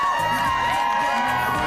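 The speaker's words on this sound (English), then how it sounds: "But the crowd loved him." A crowd cheering and whooping loudly, dense overlapping voices with shouts rising through the noise.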